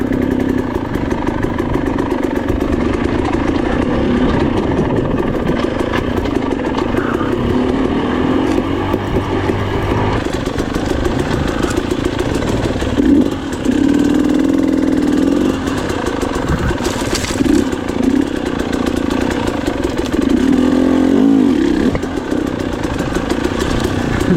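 An enduro motorcycle rides a medium-difficulty dirt trail, its engine droning steadily throughout with small rises and dips in throttle, close and loud with no talking.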